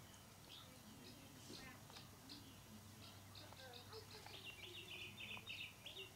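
Birds sing outdoors during a church worship service, giving faint, repeated high chirps and short trills spread over a quiet open-air background.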